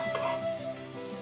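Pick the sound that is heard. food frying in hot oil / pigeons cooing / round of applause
food frying in hot oil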